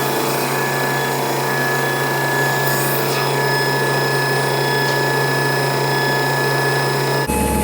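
A Timesaver wide belt sander runs steadily while surfacing a cabinet door panel, giving a constant, loud mechanical drone with a grinding abrasive rasp, unbroken until it stops abruptly near the end.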